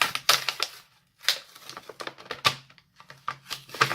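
Crinkly plastic packaging of a cheap Aldi marker set being torn and pulled open, sharp crackling bursts in irregular clusters with brief pauses, close and fairly loud.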